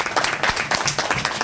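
Audience applause at the Global Entrepreneurship Week Curaçao 2024 kick-off event, a steady mass of clapping from a crowd that holds loud and dense for the whole short stretch, with no talk over it.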